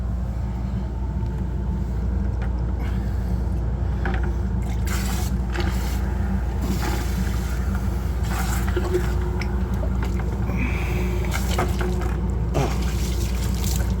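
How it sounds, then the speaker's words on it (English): A pump runs with water in a CNC vacuum hold-down setup, giving a steady low rumbling drone with a watery, flowing texture throughout and faint intermittent clatter on top. "Pump is working."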